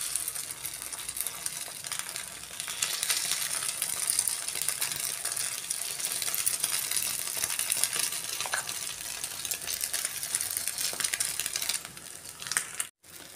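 Egg and vermicelli batter frying in an oiled kuzhi paniyaram pan, giving a steady, close broadband sizzle with faint crackles throughout and a brief clatter near the end.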